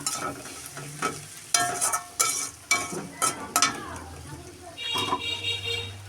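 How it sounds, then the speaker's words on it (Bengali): Ground spice paste with coriander powder is stir-fried in a pan for rohu fish bhuna, giving sizzling bursts and repeated spatula scrapes and clacks, with a steady frying hiss building toward the end. "বাটা মশলা সব দিয়ে আমি মশলাটা কষাই নেব"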